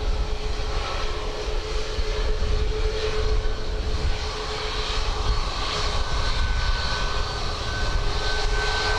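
Airplane engine noise at Dublin Airport on a windy day, a loud, steady roar with a faint tonal whine that holds for the full stretch without fading.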